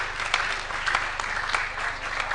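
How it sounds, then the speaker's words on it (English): Members at a parliamentary legislative retreat applaud the Honorable Duale: a brief, steady burst of crowd clapping with a low hum running underneath. "let us first of all give a round of applause to the Honorable Duale"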